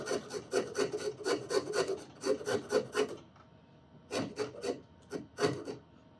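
Coarse rasp file worked by hand along the neck of a steel-string guitar, a steady run of about a dozen loud, rhythmic scraping strokes, a short pause, then several more strokes close up.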